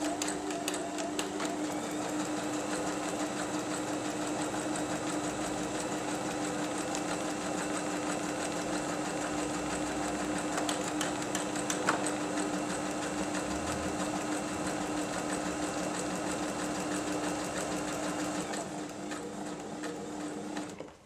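A Janome 2522 sewing machine stitches a buttonhole, running at a constant, steady whir with a fast rhythmic needle chatter and a strong hum, unbroken for about twenty seconds before easing off at the end.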